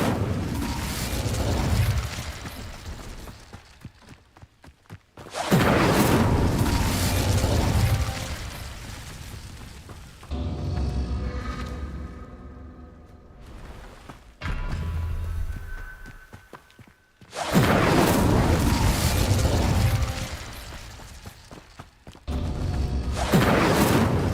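Fire spell in Witch Simulator 2023, repeated several times: loud roaring, whooshing bursts of flame lasting several seconds each, separated by quieter mechanical rumbling.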